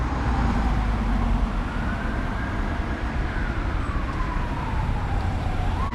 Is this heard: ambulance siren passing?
yes